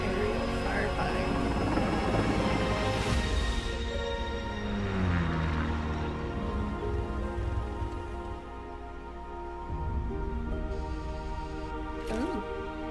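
Aerial firefighting aircraft in a video game, a loud steady rotor-like drone with a hissing, rain-like wash, continuous throughout as a person talks briefly over it.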